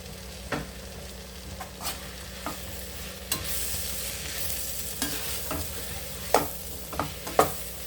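Cut mushrooms stirred into frying masala in a pan for mushroom biryani: a constant close sizzle under sharp, irregular spoon scrapes and knocks against the metal, with no talking.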